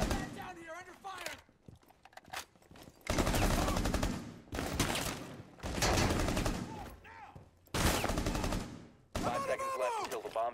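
Gunfire bursts in Rainbow Six Siege during a bomb defusal round, loud broadband volleys repeating in several sustained bursts with short gaps, mixed with game voice lines and radio chatter.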